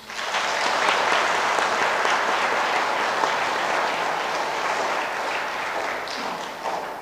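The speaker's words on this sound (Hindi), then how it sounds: "आइए हम अपने तालियों के गड़गड़ाहट से इनका स्वागत करते हुए बधाई कहें" A large crowd applauds steadily at a Catholic Mass for nuns' final vows, dense clapping filling the room from start to finish at an even, loud level.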